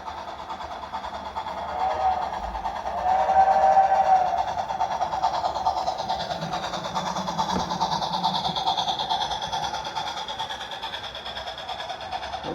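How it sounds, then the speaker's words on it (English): An HO scale model train runs a long consist through an S curve on a home layout, a steady rolling rumble and hum from close by that swells briefly midway, with a faint whistle-like tone over it. "I like running long trains, stretching out there, going through the S curve."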